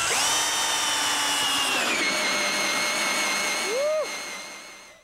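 A Panasonic 3-amp-hour cordless drill whirs at high speed, a steady loud whine that dips in pitch, briefly revs, then winds down and stops.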